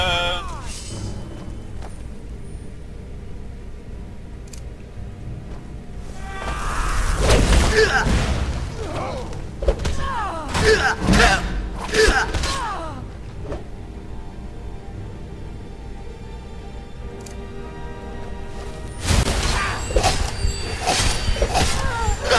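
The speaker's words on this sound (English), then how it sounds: "Explosion took out two of them." An explosion in the video game Skyrim, heavy booming bursts and crackling blasts arriving in loud clusters, with quieter game sounds between them.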